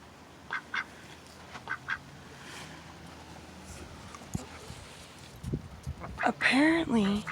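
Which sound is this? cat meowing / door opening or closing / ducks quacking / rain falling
ducks quacking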